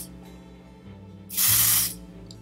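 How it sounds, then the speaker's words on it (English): A single short burst of foundation spray from a pump bottle, a loud close hiss lasting about half a second over faint background hum. "I'm gonna spray it on the back of my hand."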